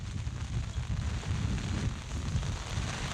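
Rain falling on a tent beside a soccer pitch during a match, a steady close-up patter and low drumming that continues throughout at moderate loudness without any talking.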